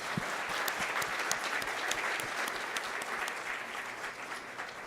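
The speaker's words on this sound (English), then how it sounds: "may I suggest a very, very warm applause for the panelists." Audience at an agriculture policy session gives panelists warm applause, a continuous even patter of many hands clapping at moderate distance, without talk.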